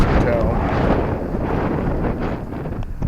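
Strong wind blows outdoors, buffeting the microphone with a steady, loud low roar that persists throughout, with a voice speaking over it.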